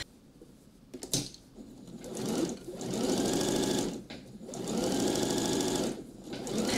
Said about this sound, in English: When you're sewing round, you want to choose a rather large stitch length, not too small.